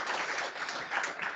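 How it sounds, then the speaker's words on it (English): Audience applause for a lecturer after a talk on SARS-CoV-2 variants, a steady dense clapping from a crowd filling the whole moment at moderate level with no voices over it. "I think that he deserves another big round of applause"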